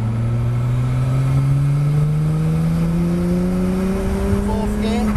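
Nissan Skyline R34 GTR engine pulling hard on a track, a loud sustained drone rising steadily in pitch as the car accelerates, with an instructor talking over it.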